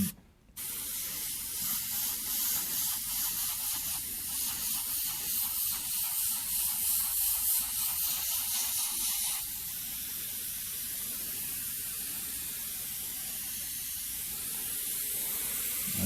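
Airbrush spraying paint onto a skull-and-fire design, a steady close hiss running almost unbroken, slightly softer in the latter part.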